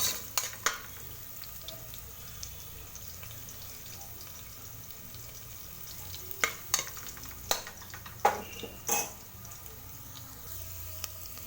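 Tempering spices sizzling in hot oil inside a pressure cooker, a low steady crackle close by, broken by sharp scraping knocks of a spoon stirring against the metal, with no voices.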